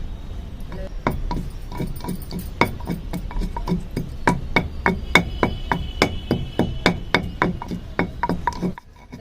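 Cardamom pods being crushed by hand: a close, steady series of about twenty sharp pounding knocks, evenly spaced and fairly loud, with no talking.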